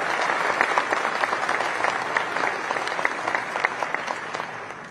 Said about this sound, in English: So let's give them a round of applause for what they do today.